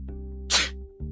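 A single sharp human sneeze bursts out over a steady background hum, brief and fairly close, with no talking around it.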